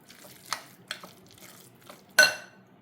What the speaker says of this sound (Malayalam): നന്നായി ഇളക്കി ചേർക്കാം.